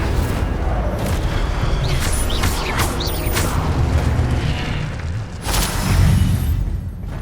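An Incendio fire spell cast in the Hogwarts Legacy video game gives a loud, sustained whooshing burst with crackling flares, sitting over a dense, steady game soundscape.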